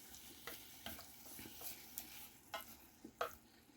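Food being stirred in a frying pan while it sizzles: soft, irregular scraping strokes over a quiet, steady frying hiss, close and fairly faint.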